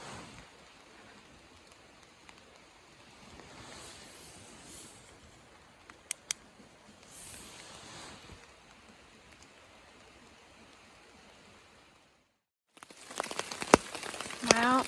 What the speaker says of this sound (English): It rained all night.